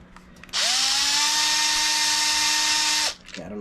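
A cordless power drill drives bolts into a Traxxas Hoss RC car. It gives a single steady high-pitched whine that lasts about two and a half seconds, close and loud, and then cuts off abruptly.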